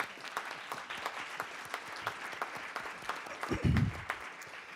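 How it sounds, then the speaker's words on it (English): An audience at a school district board meeting gives a round of applause, scattered claps heard at a quiet distance with a brief low thump near the end. "Let's give them a round of applause"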